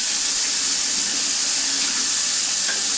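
Steady running tap water splashes continuously while food is rinsed under it in a kitchen sink, a close, even hiss with no talking.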